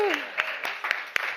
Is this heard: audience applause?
yes